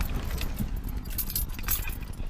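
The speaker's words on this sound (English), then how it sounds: "grab my keys" A set of keys for a 2006 Ford Escape jangles close by in a hand, bright metallic clinks in short clusters over faint background noise, no talking.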